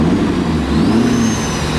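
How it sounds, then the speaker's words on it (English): Ford F250 pickup with a 6.7L engine and aftermarket cold air intake, revved briefly; a loud, steady mid-pitched engine roar with a rising whine, close by and alone without talk. "give it a rev"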